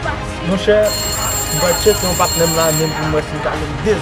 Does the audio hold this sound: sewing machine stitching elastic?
no